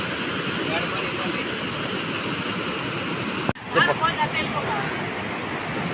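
Floodwater after Cyclone Fengal rushes in a steady broadband roar, loud and continuous, before an abrupt cut to a different spot where the flow continues with handling bumps and a faint voice.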